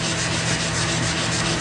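A coarse rust eraser scrubs steadily across a rusty, stained metal surface in a Shopsmith shop, giving a continuous, close, even rasping rub with no pauses.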